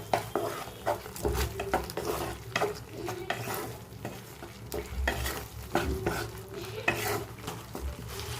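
Capsicum and masala cooking in a kadai for kadai mushroom, with close sizzling and repeated clanking scrapes of a spoon stirring against the metal pan in an uneven rhythm, no talking.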